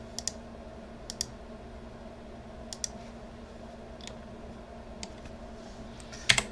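Scattered computer keyboard key presses click sharply and close up against quiet room tone, about eight separate taps spread irregularly, with a louder cluster near the end.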